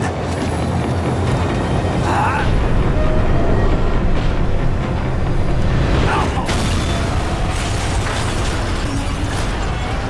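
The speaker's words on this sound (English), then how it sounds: "The tram was slowing down, and I'd only just gotten on board." A tram slows down in the Max Payne 3 video game: a loud, dense rumble of rail machinery with clanks and bursts, continuous for about ten seconds, with no speech over it.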